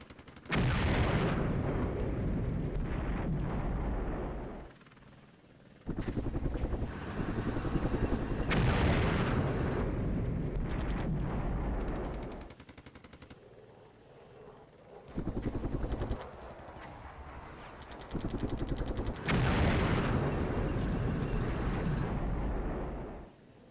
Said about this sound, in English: We know where we're dropping some artillery.